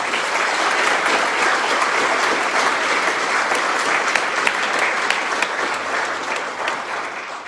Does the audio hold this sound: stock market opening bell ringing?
no